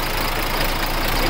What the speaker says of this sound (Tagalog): bali napandar na natin yung makina.